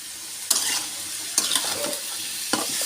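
Green beans, carrots and shrimp sizzle steadily in a frying pan while a utensil stirs them, with three distinct scraping stirs against the pan over a constant close fry.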